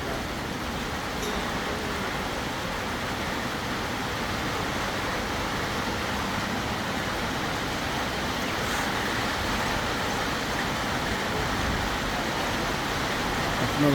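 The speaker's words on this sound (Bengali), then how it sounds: "বাইরে ভালোই বৃষ্টি হচ্ছে" Heavy rain falling outside at a dairy cow farm during milking, a steady dense hiss of rainfall that holds constant throughout with no breaks.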